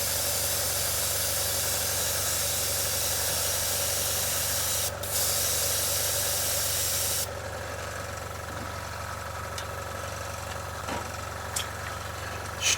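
Airbrush dusting thinned SMS primer onto a model kit piece at low pressure gives a steady close hiss that stops abruptly partway through, leaving a low compressor hum with faint clicks.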